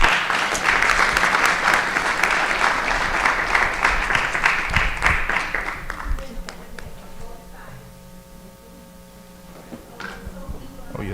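Audience applause for board members at a regular board meeting, a dense, loud burst of clapping for about six seconds that thins into scattered claps and room murmur.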